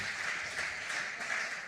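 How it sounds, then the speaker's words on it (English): Applause at a digital educators conference, a dense, even patter of many hands clapping for a speaker, steady and moderately distant for under two seconds. "Another round of applause"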